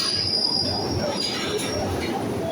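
A Glasgow Subway train, an old carriage, pulls into Buchanan Street station with sustained high-pitched wheel squeal over a steady rumble, loud and continuous throughout.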